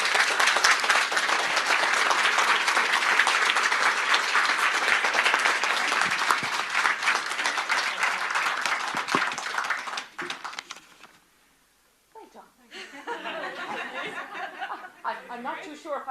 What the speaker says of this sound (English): give the almanac the biggest bullabus, the biggest round of applause we can give